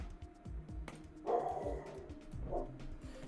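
A pet dog barks and yips in a few short, quick bursts at close range, mixed with whimpering, while music with a steady beat plays underneath.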